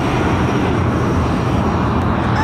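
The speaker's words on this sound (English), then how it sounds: "I'm going to show you that Eurowings A320-200 just landed" A Eurowings A320-200 airliner on landing at Madeira Airport, heard from a spotting viewpoint as a steady, dense jet roar that holds constant throughout.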